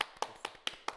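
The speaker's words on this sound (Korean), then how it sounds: "박수 몇몇 박수." A few people clap in a small studio, five distinct crisp claps in about a second at a quick, slightly uneven pace, close and fairly faint.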